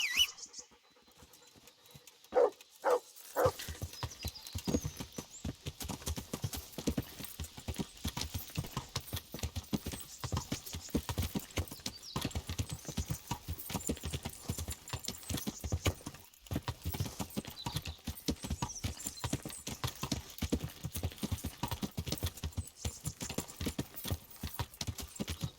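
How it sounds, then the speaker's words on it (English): Horse hooves clip-clop in the Kingdom Come game, a steady, fairly close rhythm of hoofbeats that continues almost without a break, with a few scattered knocks at the start and a short pause partway through. "Caballo."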